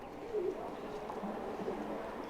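Pigeons coo softly and steadily on an upper floor of the Khole Ke Hanuman Ji temple in Jaipur, where grain is scattered for them, under a low, continuous background hum.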